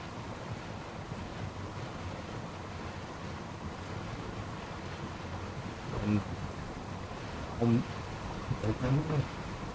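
Continuous rushing water in the video game One Way Home, a steady broadband wash under occasional short bursts of voice toward the end.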